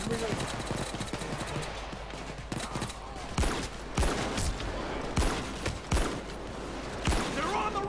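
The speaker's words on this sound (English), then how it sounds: "is that where I was getting shot from?" Gunfire in the heist shooter Payday 2, a series of sharp shots cracking over a dense, busy game mix of noise and background action, with several louder bursts toward the end.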